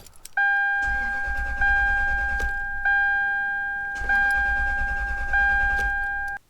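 Toyota Land Cruiser engine cranking and catching twice, each time stumbling briefly before stalling out, with a steady high warning chime running through the whole sequence.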